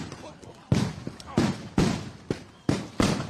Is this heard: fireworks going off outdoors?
yes